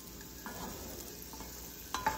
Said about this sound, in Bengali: এইভাবে আলু ভাজাটা করে নেবো আস্তে আস্তে, একটু হালকা আঁচে করলে ভালো ক্রিস্পি হবে।